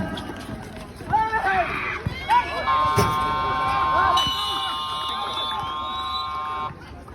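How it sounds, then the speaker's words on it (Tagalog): A long electronic buzzer sounds at a basketball game to end the third quarter, a steady harmonic tone holding for about four seconds over crowd noise and indoor gym commotion. "Clear for the buzzer."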